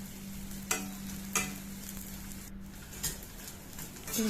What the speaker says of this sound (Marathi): दोन तीन चमचे तूप घातले मी डिंक चांगला तळून घेऊ